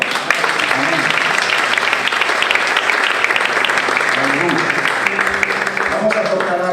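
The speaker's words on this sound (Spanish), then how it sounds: "Dale un aplauso al Señor." Congregation applauding at a church retreat for priests, loud sustained clapping from a crowd with a low musical drone and some voices mixed underneath.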